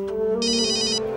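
A phone rings in a Hindi TV drama scene with a repeated electronic ringtone pattern, two bursts of trilling tones over a steady low musical hum, fairly loud and close, with no talking.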